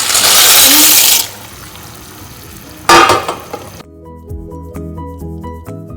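Oil poured into a hot pan for a cashew and garlic cream pasta, a loud hiss and sizzle in the opening second, a second sharp burst of frying near three seconds, then quieter pan noise with music behind.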